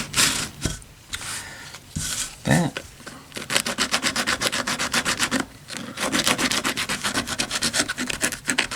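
Coarse 80-grit sandpaper rubbing back and forth across an acoustic guitar pickguard, a steady rapid scratchy rasp that starts in uneven strokes and settles into a continuous fast rhythm, close and fairly loud.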